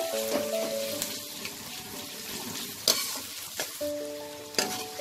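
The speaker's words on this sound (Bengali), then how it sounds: "পেঁয়াজটা আমি 2 থেকে 3 মিনিট একটু ভেজে নেব।" Onions frying in a pan for a Bengali mutton curry, a constant close sizzle with occasional sharp clinks and scrapes of a utensil against the pan.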